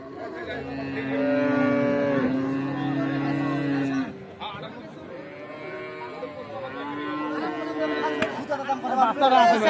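Holstein Friesian dairy cow at a cattle market, giving two long, loud, close moos separated by a short gap, with people chattering in the background.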